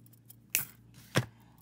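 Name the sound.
wire cutters cutting wire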